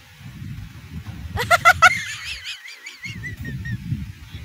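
A squeaky rubber chicken toy pressed during a Bible guessing game: a few quick honking squawks followed by a drawn-out, wavering squeal, with voices talking before and after.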